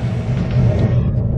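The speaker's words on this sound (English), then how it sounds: "I hear the blower kicking on" A Ducane home furnace blower starts up nearby with a loud low hum and airy rumble that swells over about a second.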